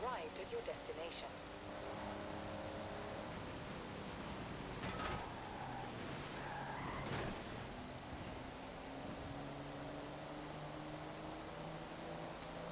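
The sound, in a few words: 1992 GMC Typhoon lazy V6 engine in video game Forza Horizon 4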